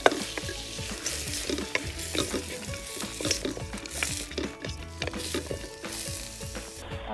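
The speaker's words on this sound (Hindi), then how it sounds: "अब इसके अंदर चिकन डाल दें और फ्राई करें।" Chicken pieces fry and sizzle steadily in a pan with onions and green chillies, with repeated stirring scrapes throughout and no talking.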